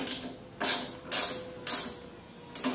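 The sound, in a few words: tightening the nut on a go-kart mirror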